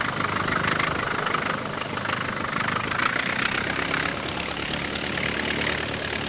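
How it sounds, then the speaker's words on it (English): A dramatized early Wright brothers airplane runs with a propeller engine, giving a steady loud droning roar that holds evenly from start to finish with no talk over it. "Spin that propeller, adventurer."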